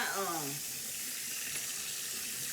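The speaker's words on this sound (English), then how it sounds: "give me a minute to rinse this strainer out, this colander out" Steady running water from a kitchen tap splashing through a colander (strainer) held under the faucet, a continuous close hiss that runs the whole time after a brief voice at the start.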